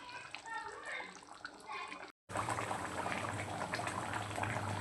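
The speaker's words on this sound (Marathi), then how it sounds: "छान पद्धतीने बघा आपल्या भाजीला उकळी आलेली आहे." Bangda fish curry simmering in a pot on low gas, a steady bubbling boil close up, broken by a brief cut of silence before the bubbling resumes louder and denser.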